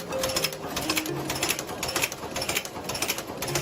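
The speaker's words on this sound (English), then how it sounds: "Step 1. Through the screw heading machine." A screw heading machine runs in a factory making screws. The mechanical clatter is fast, steady and continuous, and it stays dense throughout with no talk.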